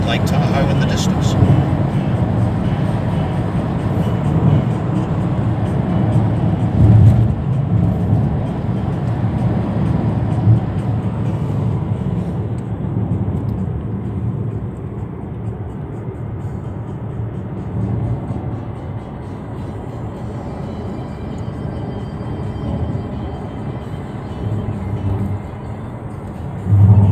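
Steady road and wind rumble fills the cabin of a 2019 Chevrolet Camaro V6 convertible cruising a winding lakeside mountain road, a continuous moderate drone with someone talking over it.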